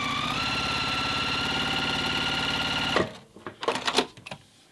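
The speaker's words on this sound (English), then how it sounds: "Now you can see I'm in the perfect position to just stitch myself a straight line here." A sewing machine runs continuously for about three seconds, stitching a straight seam on a quilt block, its motor whirring in a fast, even rhythm before stopping, followed by a few soft handling clicks and rustles.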